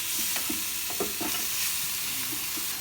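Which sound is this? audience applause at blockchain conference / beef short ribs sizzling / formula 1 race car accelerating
beef short ribs sizzling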